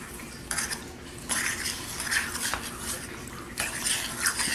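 Sugar being stirred into a homemade unicorn frappuccino, a spoon scraping and clinking against the cup in short bursts of bright scratchy stirring, close and fairly loud with no talking.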